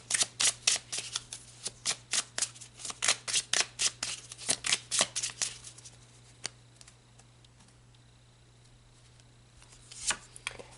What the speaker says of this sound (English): So let me pull some more cards.